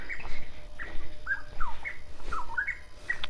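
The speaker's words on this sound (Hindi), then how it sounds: "परिंदों की भी आवाज़ है।" Several birds chirp and whistle in short, scattered calls along a hiking trail near Islamabad, fairly close and clear over a soft background hiss with no talking.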